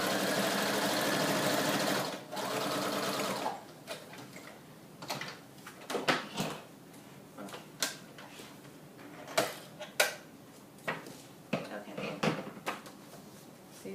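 A sewing machine stitches the pages of a handmade mini book, with a brief whirring run at the start followed by scattered clicks and taps, fairly quiet and close.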